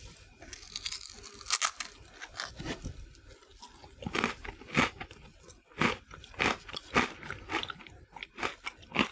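Crisp, close crunching and chewing of a spicy snack from Buc-ee's, with repeated sharp bites and steady mastication across the whole stretch, no talking.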